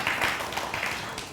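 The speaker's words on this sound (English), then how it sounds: "Give yourself a big round of applause." Audience applauding itself at a talk or seminar, a brief spell of dense, steady clapping at moderate volume with no voices over it.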